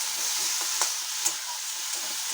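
Tomato with salt and spices sautéing and being stirred in a pan, a steady close sizzle with a few soft spatula scrapes and clinks, no voices.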